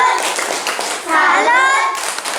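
A classroom of children claps the rhythmic 'tepuk salut' pattern together while chanting along in unison, close and fairly loud, with the clapping partly mixed into their voices.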